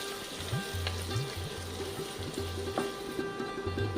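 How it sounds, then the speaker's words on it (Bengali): Chopped ginger fries in hot oil in a pan, a steady close sizzle with soft crackles and occasional stirring scrapes, no voices. "আদাটাকেও একটু ভাজতে হবে যাতে কাঁচা গন্ধটা চলে যায়"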